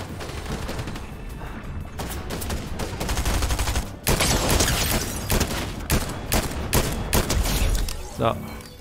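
Rapid gunfire bursts crackle in the video game Fortnite, loud volleys with short pauses between them, heavier from the middle onward, with a voice talking now and then under the shooting.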